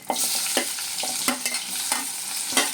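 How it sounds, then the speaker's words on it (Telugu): Chana dal, urad dal and cumin frying in hot oil for upma, a steady crackling sizzle punctuated by several sharp scraping stirs of a spatula in the pan. "శనగపప్పు, మినపప్పు, ఇప్పుడు ఇది వేగాలి."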